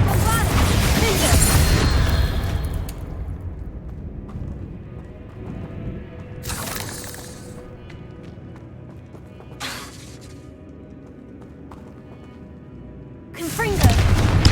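Spell blasts from Confringo and Bombarda cast in Hogwarts Legacy: a dense burst of crackling impacts at the start, then three short sharp bursts spaced several seconds apart and a loud final blast, with game sounds between.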